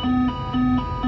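Boeing 747-400 cockpit configuration gear warning sounding on approach below 1,000 feet with the landing gear still up: loud, steady tonal beeps repeating in an even rhythm, about one every half second.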